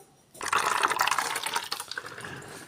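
Water rushing into a bottle, starting abruptly after a brief quiet moment, then a steady close gushing fill that slowly eases off, no talking.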